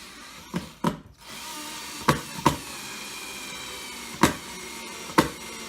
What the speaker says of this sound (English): Drill that one. Put a screw in